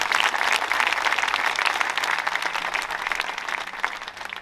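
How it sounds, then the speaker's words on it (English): Audience applause at the Michigan WWII Legacy Memorial dedication, steady dense clapping from a crowd that holds for several seconds at an even level, close and lively. "let's clap it up for PACT Act"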